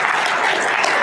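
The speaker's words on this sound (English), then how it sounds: "Let's give a round of applause for sure." Audience applause at an executive leadership panel, a dense, even wash of many hands clapping at steady loudness throughout.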